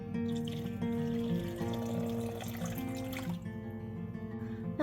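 Water being poured into a bowl with brown rice flour for a vegan gluten-free sourdough pre-ferment, a steady faint stream with no talking.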